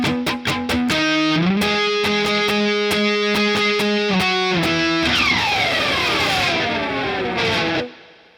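Distorted electric guitar plays a line from Foo Fighters' "Best Of You": choppy, palm-muted chords in a steady rhythm give way to a long ringing chord that sustains and fades, loud and close with no voices.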